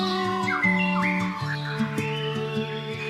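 A white-rumped shama (murai batu) gives a run of clear whistled calls, chirps and squawky notes close by, over a steady tonal hum in the background.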